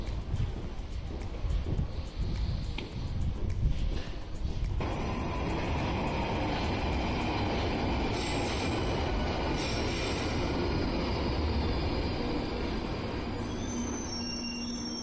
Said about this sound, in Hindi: मुझे नॉर्दर्न लाइन ट्यूब से जाना है